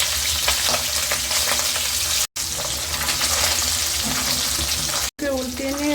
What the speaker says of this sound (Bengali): এক এক করে সব মাছগুলো ভেজে নেব।